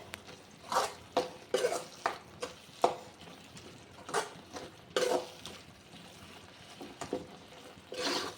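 Ground masala for a liver fry sizzles gently in a pan while a spoon scrapes and stirs it in irregular bursts, close and fairly quiet, with no voices.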